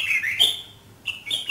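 Red-whiskered bulbuls calling as several chase each other overhead, giving bright warbling chirps in two bursts with a short gap, fairly near and clear with no talk.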